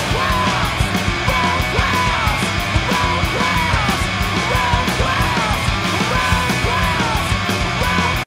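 A rock track with loud, dense distorted guitars, pounding drums and harsh screamed vocals sounding continuously throughout.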